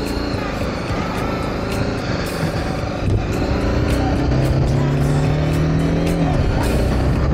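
A 2023 BMW G 310 GS motorcycle pulls hard from first gear, its engine note climbing and shifting under steady wind roar, loud and continuous from the rider's position.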